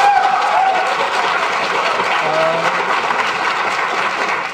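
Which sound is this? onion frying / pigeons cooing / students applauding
students applauding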